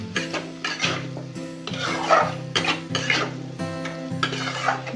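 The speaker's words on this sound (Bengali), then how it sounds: "আমি আরেকটু নেড়ে নেব।" Food with turmeric and salt stirred in a pan on the stove, a spatula making rhythmic scraping and clinking strokes against the metal over a gentle sizzle, close and clear.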